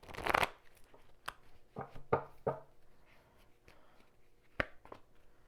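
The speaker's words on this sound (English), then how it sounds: "Get another shuffle." A deck of tarot cards is shuffled in several quick riffles and bursts, crisp papery flutters separated by short pauses and light tapping.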